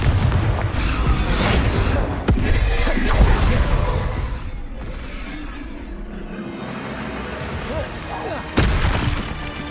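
Hogwarts Legacy's Bombarda explosion spell: continuous heavy booms and blasts with sharp impacts, loud and dense throughout, fading somewhat midway before another strong hit near the end.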